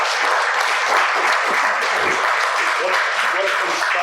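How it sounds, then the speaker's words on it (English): An audience at a panel discussion of local journalists gives a round of applause, a dense, steady wash of clapping with faint voices underneath. "we have a round of applause for our fine"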